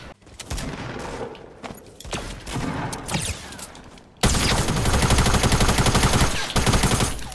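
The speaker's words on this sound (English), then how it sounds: "Oh, SMG, baby!" A submachine gun fires in a video game: scattered shots and short bursts at first, then a long, loud, continuous stream of rapid automatic fire near the listener.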